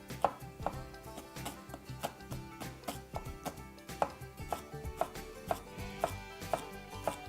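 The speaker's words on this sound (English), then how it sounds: "Got our shallot from earlier. And I'm just going to slice this." A knife slices through a shallot on a cutting board in a steady series of crisp, evenly spaced chops, close and distinct, with no talking.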